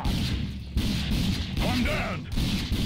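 Gunfire in the video game Rage: dense, loud bursts of shots and booming impacts running continuously, with a voice speaking briefly partway through.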